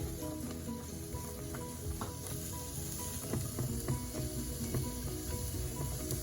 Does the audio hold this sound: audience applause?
no